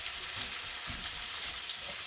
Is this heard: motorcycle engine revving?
no